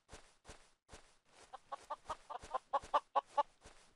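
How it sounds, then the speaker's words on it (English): Minecraft chickens cluck in short, separate bursts, starting sparse and faint and then growing into a quicker, louder run of clucks toward the end. "Chickens. A lot of chickens."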